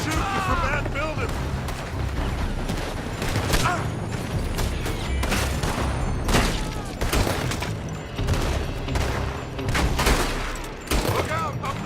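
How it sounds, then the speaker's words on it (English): Dense gunfire in the Western video game Red Dead Redemption 2, rapid overlapping shots and booms in a continuous loud barrage, with game voices shouting over it. "They're shooting from that building!"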